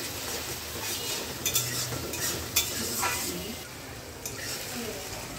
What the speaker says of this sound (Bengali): সুন্দরভাবে নাড়াচাড়া করে নিচ্ছে।